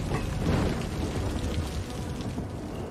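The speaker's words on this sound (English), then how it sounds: "We getting hit with lightning?" Rain and thunder in the Cities: Skylines city-building game, a steady dense hiss of rainfall with a low rumbling swell near the start that fades, heard alone without voices.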